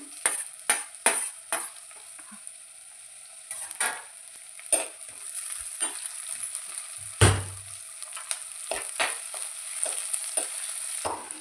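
Chopped onion, ginger and green chili frying in a pan, a steady bright sizzle punctuated by repeated sharp scrapes and clacks of a spoon stirring, close and fairly loud.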